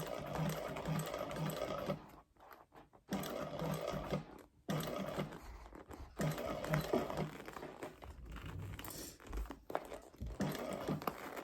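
A sewing machine top stitches a bag in short close runs of rapid mechanical stitching, broken by brief pauses and some fabric rustling between bursts.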